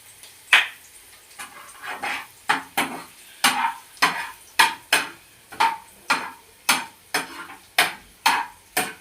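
Carrots stirred and frying in a pan for prawn fried rice, a steady run of rhythmic scraping stirs about every half second over a soft sizzle, close and alone.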